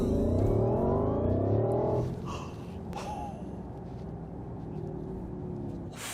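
Porsche Cayenne Electric SUV accelerating at its full 1,156 horsepower: a rising electric whine climbs for about two seconds, then gives way to a steady roar of road and wind noise, with no talking.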